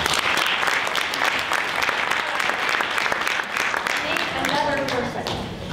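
A group at a Girls on the Run gathering gives a sustained round of applause, dense and even throughout, with a few voices rising near the end.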